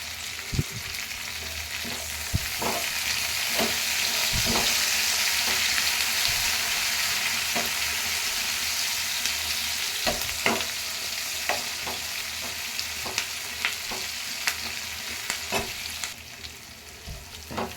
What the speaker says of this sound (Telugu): పచ్చిమిర్చి, కరివేపాకు అయితే ఫ్రై అయిందండి.